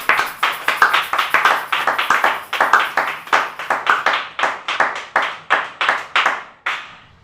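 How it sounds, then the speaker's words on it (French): A church congregation claps together in a brisk, fairly regular rhythm, loud and close, each burst of hand claps sharp and rolling on for several seconds before stopping. "acclamons pour la parole."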